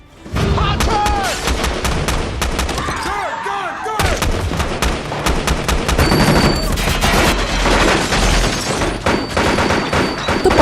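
Heavy gunfire from a sniper and special-forces action film: a dense, loud barrage of rapid shots and bursts, with a brief lull before the shooting resumes, layered over a film score.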